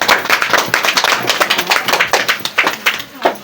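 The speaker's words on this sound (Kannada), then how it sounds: "ಕೈ ಚಪ್ಪಾಳೆ ಕೊಡ್ರಪ್ಪ ಜೋರಾಗಿ" A group claps loudly at a gathering, rapid dense hand claps in an uneven rhythm throughout, close and strong, with a voice underneath.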